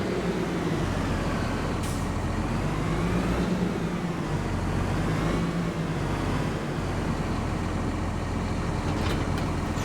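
A lime spreader farm vehicle in Farming Simulator 25 runs with a steady, loud, truck-like engine drone that holds level throughout, with no talking.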